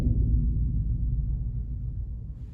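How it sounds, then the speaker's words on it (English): A bass drum struck softly at the edge gives a low, light rumble that sounds distant and fades slowly over a couple of seconds. "Let's start off by striking the edge."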